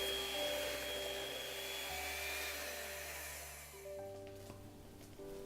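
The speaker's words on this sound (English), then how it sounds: "then use the mixer to smooth it" An electric mixer whirs steadily through cheesecake filling made with gelatin, a close, fairly quiet motor drone that shifts pitch a few times as the speed changes, with no talk.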